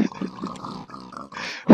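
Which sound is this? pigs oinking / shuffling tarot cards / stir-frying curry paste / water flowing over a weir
pigs oinking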